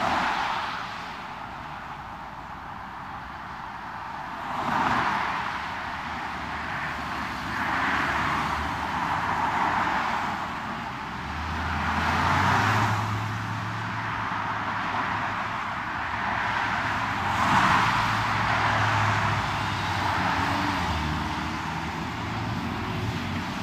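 Steady road traffic rumbles from inside a car in Boston, a continuous low engine and tyre drone with a few vehicles swelling past over about twenty seconds, no talk.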